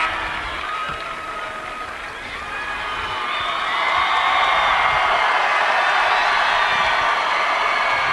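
Basketball crowd at a 1A state semifinal girls' game cheers and applauds as two players are subbed out, a broad steady roar that swells louder midway and holds, with shouts mixed in.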